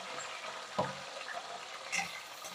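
Onions and green chilies fry in a pan for a Karaikudi-style vegetarian fish kuzhambu, giving a steady soft sizzle with a couple of brief stirring scrapes, close and alone.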